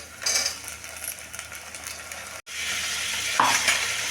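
Onion and cauliflower hit a hot pan of oil for veg pulao, giving a loud, steady sizzle with stirring scrapes, a brief break, then a renewed hiss and a sharp clink.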